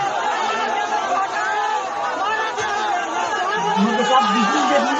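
A large crowd of party workers at a rally, a dense sustained roar of many voices calling out together, loud and continuous, with individual shouts rising above the mass near the end.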